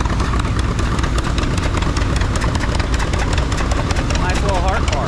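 An antique tractor engine idles at a threshing bee, a loud, steady rapid chugging that fills the whole stretch, with voices mixed in.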